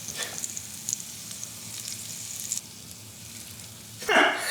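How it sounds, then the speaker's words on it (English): Green onion whites frying in peanut oil in a pan, a steady close hiss of fine crackle that swells into a sharper sizzling burst near the end, with no voices. "put some peanut oil into a pan, followed by the whites of your green onion"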